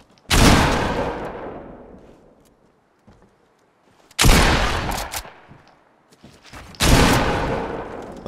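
Video game gunfire in three separate loud bursts, each with a sharp attack and a long decaying tail, separated by short quiet gaps.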